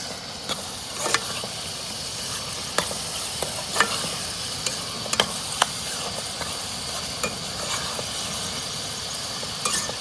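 Onions frying in a pan for prawns Chettinad, with a steady close sizzle and repeated clicks and scrapes of stirring throughout.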